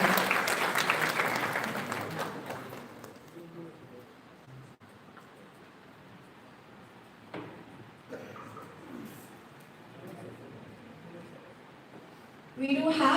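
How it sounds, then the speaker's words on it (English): Audience applause at an international conference, a loud burst of clapping at the start that fades within about three seconds, followed by a quieter room with scattered murmurs and a brief renewed swell of clapping at the end. "A big round of applause for Dr. Sachin Bhore"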